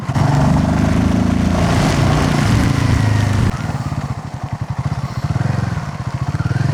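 A Royal Enfield Himalayan 450 motorcycle rides through heavy monsoon rain, its engine droning steadily and close, then shifting to a rougher, pulsing throb midway as the ride continues.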